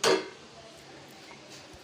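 A lid set down on a pot of khichuri gives one sharp metallic clink right at the start, then fades into quiet kitchen room tone.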